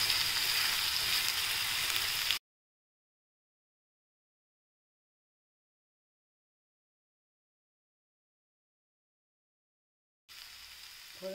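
Finely chopped garlic sizzles in a hot pan for a paneer and pea bhurji, a steady bright frying hiss that stops abruptly, followed by a long silence and then a shorter return of sizzling.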